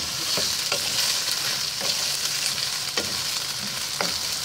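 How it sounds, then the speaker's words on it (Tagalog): Tomato sauce for beef kaldereta sizzles steadily in a pan while being stirred, with periodic scraping clicks of the utensil over a continuous close frying hiss and no talking. "Haluin lang natin."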